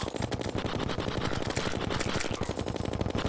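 Rapid automatic gunfire from a weapon in the Terraria video game, a continuous stream of fast, evenly spaced shots that fills the whole stretch at steady loudness with no talking.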